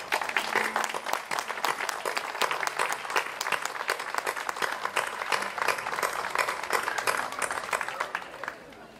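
An audience at a monument inauguration in Chapela applauds steadily, many hands clapping at once in a dense, even patter that holds for several seconds before tapering slightly at the end.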